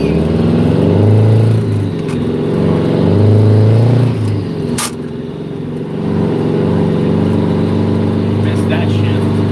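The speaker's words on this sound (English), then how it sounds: "I want to hear that truck scream." A truck engine revving hard in a quiet residential neighbourhood, loud surging roars rising and falling in two bursts, with voices talking over it.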